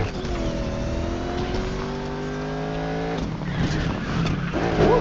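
A car in a video game revs with rising engine tones, then skids and scrapes as the steady whine breaks into rougher noise near the end, close and fairly loud.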